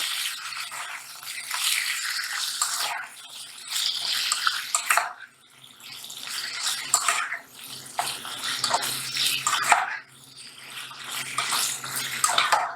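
Beef liver (kaleji) pieces frying on a tawa in hot oil, a loud, steady hiss and crackle that surges and eases in waves, with no voices.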